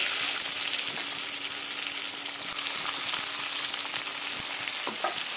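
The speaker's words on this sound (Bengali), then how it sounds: "তাহলে এবার তেলের মধ্যে জিরে দিয়ে দিচ্ছি, আমি পেঁয়াজটা দিয়ে দিচ্ছি" Cumin seeds and onion fry in hot oil for a prawn chorchori, giving a steady, close hiss of sizzling with no voices over it.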